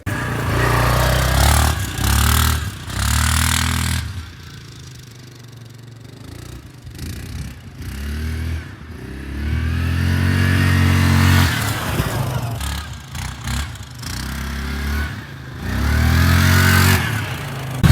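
A 2022 Yamaha Kodiak 700 ATV with loose plastics rides around a field, its engine revving up and easing off in repeated surges between quieter idling stretches, loud and close throughout.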